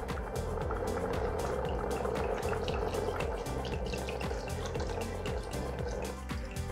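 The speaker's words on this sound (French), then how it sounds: "on va couvrir d'eau" Water poured over a chicken carcass in an Instant Pot for a ramen broth, a steady splashing fill with light dripping, fairly faint and without talk.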